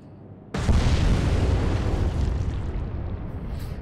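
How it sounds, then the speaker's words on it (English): A torpedo strikes a ship in the naval combat game Atlantic Fleet, setting off a loud, sudden explosion that booms and then rumbles on in a long, slowly fading roar. "There's the killing torpedo."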